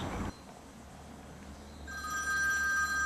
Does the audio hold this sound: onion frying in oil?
no